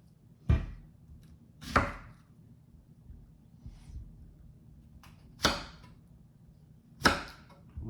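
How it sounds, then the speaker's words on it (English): A knife chops through a large white onion on a cutting board, giving five sharp, separate thunks spaced unevenly over a few seconds in a quiet kitchen. "I cut my onions this way"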